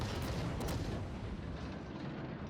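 Smolensk light cruiser in World of Warships firing its guns, a dense continuous rumble of heavy artillery booms blending together, loud and sustained with no talk.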